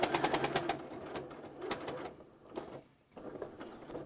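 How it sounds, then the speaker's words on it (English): Domestic sewing machine stitching a fabric potholder, with a quick rapid stitching run at first, then shorter bursts separated by pauses, fairly close and moderate in level, no speech. "So we're gonna sew down to where that fold is here."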